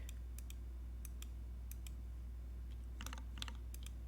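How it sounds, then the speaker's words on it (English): Typing on a newly built Gaff60 mechanical keyboard with Tealio V2 switches, faint irregular clusters of sharp key clacks with pauses between bursts over a steady low hum. "I finished building a keyboard"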